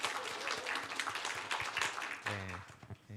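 A church congregation at an Easter Sunday service claps to congratulate a couple on their wedding news, a moderate burst of hand claps that fades as a voice begins to speak.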